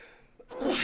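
A single sharp sneeze bursts out after a brief intake of breath, loud and close.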